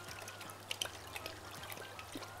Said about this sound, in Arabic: وهاجي هنا احط بقية اللبن